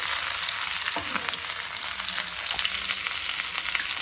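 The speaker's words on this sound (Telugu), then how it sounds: "ఇప్పుడు ఇందులో అల్లము, ఎల్లిపాయలు ఆయిల్లో వేసేసి" Ginger and garlic sizzling in hot oil in a pan, a loud continuous crackling fry with occasional soft stirring knocks.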